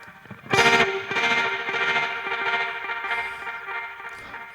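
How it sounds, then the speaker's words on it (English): A guitar-style tone runs through a dub echo effect rack paired with auto pan in Ableton Live, with a loud strum near the start followed by a pulsing, chopped tremolo-like repeating wash that slowly fades over a few seconds. "that's the dub echo audio effect rack combined with the auto pan"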